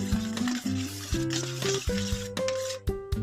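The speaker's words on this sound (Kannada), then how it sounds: "ಈಗ ಇದನ್ನು ಕೂಡ ಸ್ವಲ್ಪ ಕಲಿಸ್ಕೊಳ್ಳೋಣ" A spoon mixes tempering through curd rice in a metal bowl, with continuous close scraping broken by sharp clinks against the rim, loud and unhurried, and no voices.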